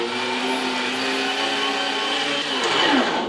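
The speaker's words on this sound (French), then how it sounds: "le couteau à la plonge, le bol avance, et la viande on la hache" Electric meat grinder mincing beef for a tajine, a steady, loud motor whine with layered harmonic hum running continuously, pitch shifting slightly near the end as the meat is pushed through.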